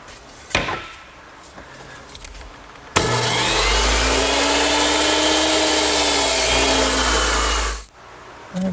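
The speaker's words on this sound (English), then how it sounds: "Now I'll make a cut on one end of the rail." A power saw cuts through the end of a wooden rail for a Shaker two-drawer blanket chest, a loud steady whine lasting about five seconds that drops away as the blade is released, with light workshop clatter before it.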